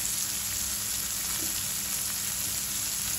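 Spices being added to onions frying in a hot pan, with a continuous dense sizzle and crackle held at an even level throughout, close by and with no talking over it.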